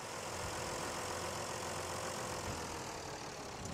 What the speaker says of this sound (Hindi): यहाँ पे बैक करके लगाएंगे ट्रैक्टर को।